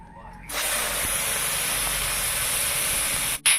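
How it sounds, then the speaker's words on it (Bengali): Prawns fry in hot oil with a sudden loud, steady hiss that starts abruptly and holds close and even, with a brief clatter at the end. "চিংড়ি মাছটা ভেজে নিই।"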